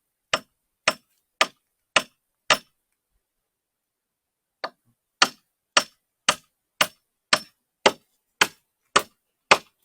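Sharp, evenly spaced hammer strikes while a trap is built on a mountain, five quick blows, a pause with one softer tap, then a steady run of nine more, close and clear with no talk.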